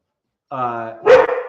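Dogs barking close by, a single harmonic bark or whine followed by a sharp louder bark, each standing out clearly against silence.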